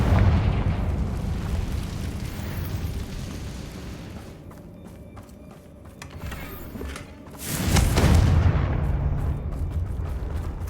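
A Confringo blasting spell in the Hogwarts Legacy game bursts with a heavy, rumbling explosive boom that surges loudly near the end over a dense background roar of combat.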